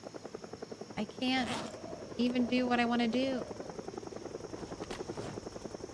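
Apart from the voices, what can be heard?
helicopter flying over in Project Zomboid video game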